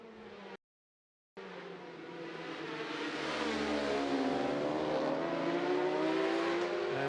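Racing motorcycles at the 2022 Macau Grand Prix, the 54th motorcycle race, roar loudly, their engine note climbing steadily in pitch under acceleration after a brief dropout to silence near the start.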